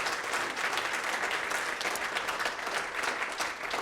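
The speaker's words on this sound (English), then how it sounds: "So let's give him a round of applause." Steady audience applause fills a memorial service hall, dense even clapping from many hands, close and sustained throughout with no talk over it.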